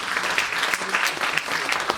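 Audience applause at a live comedy stage show, a dense steady wash of clapping holding at an even level throughout, with no voices on top.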